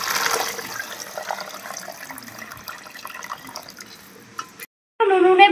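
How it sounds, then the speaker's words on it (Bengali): Hot water pours into a basin of ingredients for a rustic village-style khichuri, a continuous close splashing gush lasting about four and a half seconds. It stops abruptly and a voice begins talking right after. "আমি এখন গরম জল দিয়ে দিচ্ছি।"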